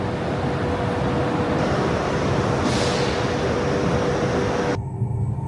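A Chinese high-speed train, the G2492 to Chengdu Dong, stands at a Shenzhen Bay station platform with a steady, loud broadband rush of machinery and ventilation, then cuts off abruptly near the end.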